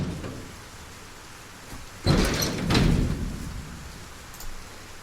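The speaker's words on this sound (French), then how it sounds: "Il pleut fort en plus." Heavy rain falls outside in the video game Project Zomboid, a steady hiss with a louder burst of rain or distant thunder rumbling in midway before easing back to a constant wash.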